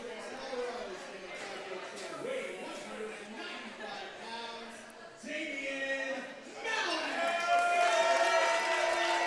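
A crowd at a catch wrestling match murmurs and calls out in a mixed, passionate reaction, building louder toward the end with overlapping voices.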